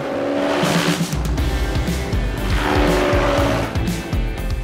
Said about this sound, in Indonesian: Pertama-tama, rumput-rumput perlu dicacah terlebih dulu pakai mesin ini.